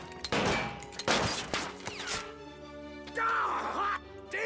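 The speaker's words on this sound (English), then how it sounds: "Shoot me, Henry." Gunshots in a Venture Bros cartoon scene, with two or three loud close bangs early on followed by a groaning voice and a cartoon sound effect.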